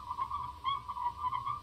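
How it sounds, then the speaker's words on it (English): Crickets chirp in a playback, a faint high trill pulsing in quick, regular bursts over a low background hum. "Sounds like crickets."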